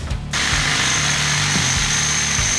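A power drill whirs steadily at close range in a garage workshop while a cheap aftermarket radiator guard is fitted to a Yamaha FZ1N motorcycle, starting abruptly after a brief quiet and running continuously with slight load changes.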